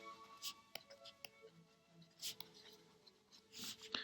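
Pen scratching across paper while working a statistics exercise in a quiet room, faint intermittent strokes and taps over several seconds, with soft breathy vocal sounds between them.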